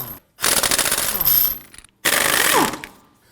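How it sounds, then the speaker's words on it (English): An impact wrench with a 19mm socket loosening rear lug nuts on a Volvo XC90 3.2L L6, two loud rattling hammering bursts separated by a short pause, close, ending with a spin-down. "Using a 19mm socket, we want to get it loosened and remove our lug nuts."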